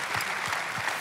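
Applause from a church service crowd, a dense patter of many hands clapping steadily for a moment, heard from a short distance.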